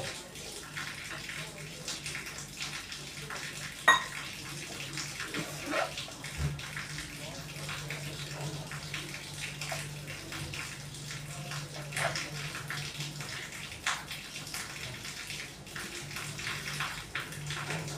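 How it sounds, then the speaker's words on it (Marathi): Water runs and splashes steadily into a bowl of flour for peanut-and-jaggery flatbread dough, a continuous close wet rushing with small bumps and clinks throughout. "पाणी घालून घ्या त्याच्यामध्ये।"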